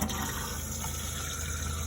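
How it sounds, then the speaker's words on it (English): A caravan toilet in a McLouis Tandy motorhome flushing at the push of a rear button, a steady close rush of water running evenly throughout without any talk. "which is the flush"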